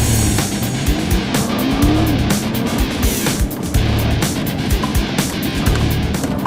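A Nissan GT-R launches hard on a timed acceleration run, its engine roar loud and continuous, with tire noise and a few rising gear pulls over a steady rumble.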